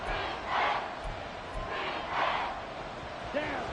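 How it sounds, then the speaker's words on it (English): Football stadium crowd at a Chicago at Washington game roaring in swelling waves, rising and falling loudly throughout the short stretch, with no clear voices standing out. "this crowd doing their best to make a lot of racket"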